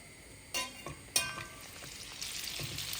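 Butter and oil sizzle in a pan for a rich masala chicken curry, a steady frying hiss with two sharp clinks near the start and no talk.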